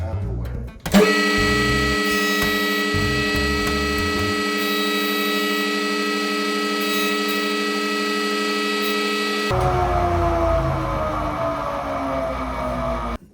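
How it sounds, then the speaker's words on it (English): A woodworking jointer starts up with a loud steady whine and hum as a board is fed through, cutting about four inches of an angled profile, then spins down with a falling pitch near the end. "what I'm going to do is put it through the joiner, but only for about 4 inches"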